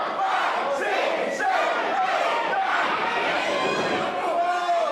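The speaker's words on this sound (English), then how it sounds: "We'll let the crowd count it out for you." A wrestling crowd at a live pro wrestling event chants loudly in unison, counting out a pin in rhythmic shouted beats that fill the arena.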